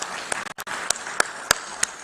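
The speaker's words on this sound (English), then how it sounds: "Give a big round of applause," Scattered applause rises at a formal international mediation conference as a judge is welcomed to the dais, a few sharp claps standing out over a steady hall wash, brief pauses breaking it, moderately quiet and distant.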